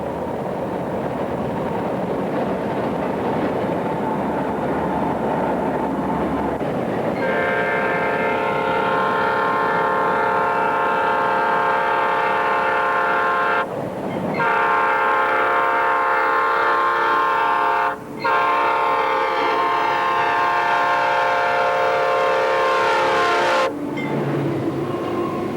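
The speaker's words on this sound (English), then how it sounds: "The coal train continues north as a southern train approaches from the east." A long, loud rumble of a passing CSX diesel coal train with rolling wheel noise throughout, joined by a sustained horn-like tonal blast.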